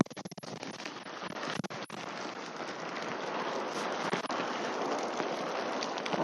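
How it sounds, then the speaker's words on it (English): Artificial rain sprays onto an Outwell tent fabric, making a constant dense hiss and patter close by, with a few sharper taps at the start before it settles into a steady downpour. "So let's start the rain."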